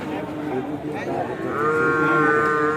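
Buffalo calves at a village livestock market, a drawn-out bovine moo rising over the crowd, with people talking throughout.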